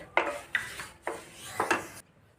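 Spoon scraping through roasted sesame seeds folded into thick sugar syrup in a pan, four distinct raspy strokes up close, each a gritty scrape that fades before the next, then quiet.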